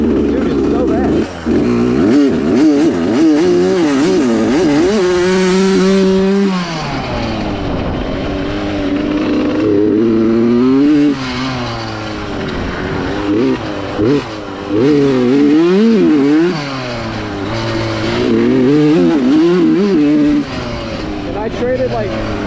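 Suzuki RM85 dirt bike engine revving and shifting pitch steadily through a ride, loud and close throughout, with a person talking over it much of the time.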